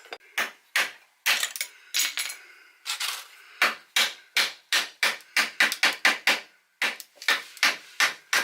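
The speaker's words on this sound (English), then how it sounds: "Let's get a wedge in there. A wedge cut from a V-splice. Give that a little tap." Repeated sharp taps of a hammer driving a wooden wedge into a yew V-splice, irregular at first and then quickening into a steady series of close, bright knocks.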